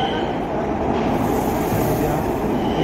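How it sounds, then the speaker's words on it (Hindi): A Nagpur metro train pulls into a crowded station, its rumbling approach building into a steady, fairly loud roar while someone talks over it. "मेट्रो ट्रेन आ चुकी है"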